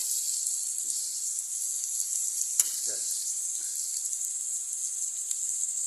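Ginger, tomato, garlic and onion sauté in hot oil in a pan, a steady bright sizzle with a few faint scrapes and clinks of a utensil underneath.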